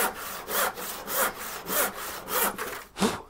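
A handsaw cuts through wood on a saw bench in steady back-and-forth strokes, each rasping pass rising and falling in a regular rhythm, close and clear with no talking.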